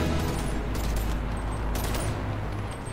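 Shooting in the VR game Bonelab, a steady wash of loud noise with faint repeated shots buried in it, continuous throughout with no clear separate bangs.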